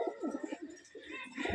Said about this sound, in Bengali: এই কবুতর জোড়া সেল হবে এখানে।